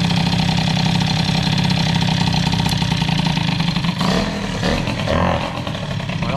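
A 103 moped with an air-cooled hybrid Airsal 65 cylinder runs cold with the fuel cut, idling in a steady buzzing chug that turns rougher and uneven near the end.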